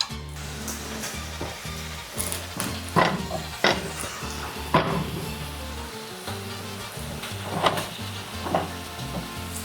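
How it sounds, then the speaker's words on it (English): Jalapenos roasting in an everyday small frying pan, with a steady close sizzle and intermittent clatter of the pan or utensil, plus low tonal background sound underneath; no talking. "roast the jalapenos."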